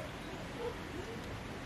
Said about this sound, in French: Et là on a la pluie qui est en train de revenir, donc je pense qu'on est en train de sortir de l'œil du cyclone.